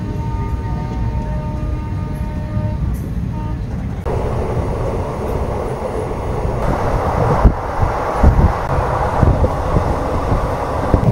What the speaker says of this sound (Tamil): ஒரு அமைதியான ஓடை பக்கத்தில் அப்படியே மெதுவாக நம்ம ட்ரெயின் போயிட்டுருக்கு